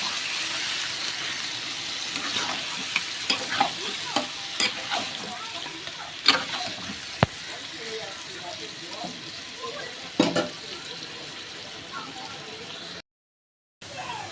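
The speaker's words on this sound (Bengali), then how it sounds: "বলছি এবার আমি এটা ঢাকা দিয়ে দিয়ে কষাবো" Goat meat with roasted ground spices and potatoes frying in a covered pan while being stirred, steady close sizzle with scraping stir strokes and occasional clanks, a voice speaking faintly underneath.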